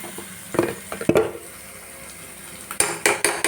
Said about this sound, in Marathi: क्रश केलेला लसूण घातलाय मित्रांनो